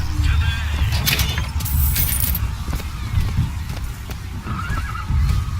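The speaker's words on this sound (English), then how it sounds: "Equus Mechanical, the automatic stallion, the horse of the future." A mechanical horse, the Equus Mechanical in the video game BioShock Infinite, whinnies amid clattering hooves and jangling metal over a steady, busy background rumble.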